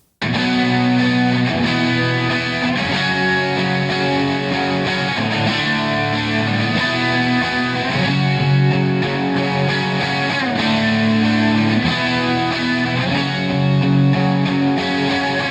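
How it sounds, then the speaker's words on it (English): Dense, crunchy distorted electric rhythm guitars, two layered tracks, chug steadily throughout, loud and continuous with a driving repeated pattern and no voices. "exactly the same settings as were on the intro, plus the two crunch guitars"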